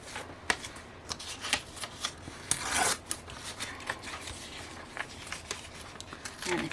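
Paper being torn off a page while journaling, a quick ripping burst in the middle among softer rustles and handling noises of paper, close and moderately quiet.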